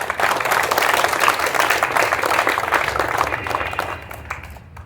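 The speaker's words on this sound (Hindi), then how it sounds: "तो मैं चाहूंगा कि जोरदार तालियों के साथ" Audience applause at an Ambedkar Jayanti celebration, a dense, steady wash of many hands clapping close by for several seconds before tapering off near the end.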